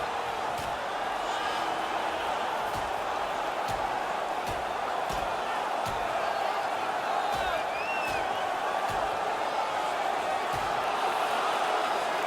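A hockey arena crowd at a Blackhawks versus Blues playoff rivalry game roars steadily as a fight breaks out on the ice, a dense, sustained wall of cheering punctuated by periodic dull thuds.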